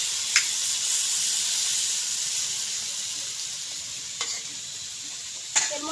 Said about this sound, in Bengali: ডুবো তেলে ভাজা করে নিলে আরো বেশি ভালো হয়।